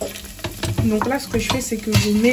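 Onions sizzle and fry in a pan for pad thai in a small studio kitchen, a steady crackling hiss with occasional stirring scrapes, while someone talks over it.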